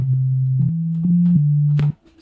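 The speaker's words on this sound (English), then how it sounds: "Now we can play ugly sounding chords because it's a sine wave" Sine wave synth chords played from a MIDI keyboard in REAPER, pure sustained tones that step between a few chord changes over about two seconds, then cut off abruptly into near silence.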